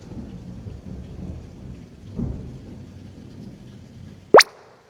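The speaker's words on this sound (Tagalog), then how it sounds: "grabe, natatakot siya sa kulog." Thunder rumbles low and distant through steady rain, swelling briefly in the middle before a sudden sharp loud crack near the end, heard from inside a house.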